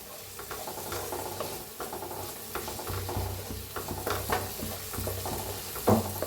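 Onion, tomato and spices such as turmeric, coriander powder and garam masala frying in a pan for palak paneer, a steady close sizzle broken by repeated scraping stirs of a spoon.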